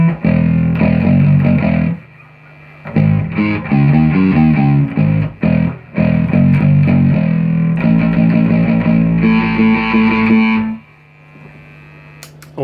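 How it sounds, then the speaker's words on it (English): A bass guitar played through a distortion effect in a bass rig, with gritty sustained notes in several bursts separated by brief pauses and a low mains hum underneath. "So if I turn on this distortion,"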